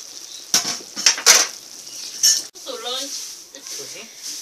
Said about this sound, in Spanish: Ya frito, voy a agregar las sardinas.